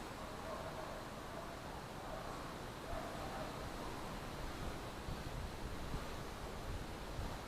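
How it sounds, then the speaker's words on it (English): Breeze blowing through a garden, a steady, soft, continuous rush of wind noise buffeting the microphone, faint and even throughout. "Breeze is picking up a little bit in the garden."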